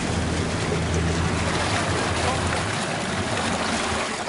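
A classic wooden vessel's engine running steadily as it slowly manoeuvres through a narrow harbour gap, a continuous low throb under wash and water noise, with voices talking nearby.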